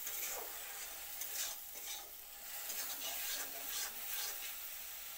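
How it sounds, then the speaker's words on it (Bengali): A spice masala is stir-fried in a pan for a potato and pointed gourd curry with fish head, giving a soft continuous sizzle with gentle rubbing spatula strokes, fairly faint and without speech. "মশলাটা ভালো করে কষিয়ে নিলাম।"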